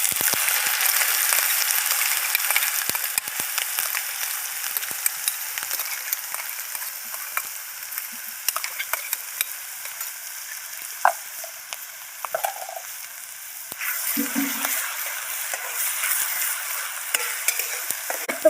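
A green chili, garlic and ginger paste fries with peanuts in a pan for brinjal bharit. It gives a loud, continuous sizzle with frequent scraping spoon strokes and brief clatters throughout, and no speech.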